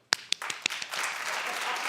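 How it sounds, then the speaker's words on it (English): A few scattered claps open, then an audience breaks into steady applause that builds and continues. "But clap if you like Joseline."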